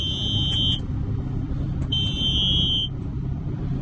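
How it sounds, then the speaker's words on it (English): Two long, high-pitched electronic warning beeps from a JCB 525-60 Agri Plus telehandler sound over the steady rumble of its running engine, the second tone lasting about a second. "it's beeping because Rhino was trying to open the locking pins on the grab."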